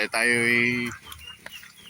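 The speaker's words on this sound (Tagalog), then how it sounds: "Yan po yung ating mga alagang manok" A single drawn-out crowing or squawking call from a chicken, loud and close, followed by quieter scattered noises, with rain falling.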